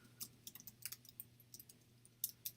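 Someone types a date on a computer keyboard while entering figures to close out expense accounts: a quiet, irregular run of light key clicks over a low steady hum.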